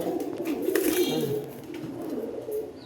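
A running pair of pet pigeons coos softly and repeatedly, low throaty rolling calls close by, with faint background noise between them.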